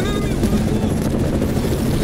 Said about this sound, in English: That minigun will punch right through walls!